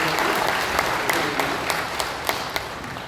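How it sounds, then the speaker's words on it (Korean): A congregation at a joint Liberation Day worship service in Sejong claps in thanks, a loud, close patter of many hands with a few sharper individual claps standing out. "감사의 박수 하겠습니다."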